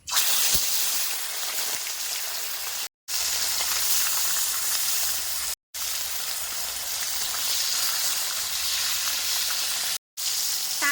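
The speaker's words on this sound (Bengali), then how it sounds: "কড়াই চাপাই দিছি ধান তেলও গরম হয়ে গেছে এবার মাছগুলো বাজে নেবো" Live Damodar river fish fry in hot oil in a kadai set on a village clay stove, giving a loud, dense, continuous sizzle up close. The sound is broken by a few brief silent gaps, with no speech.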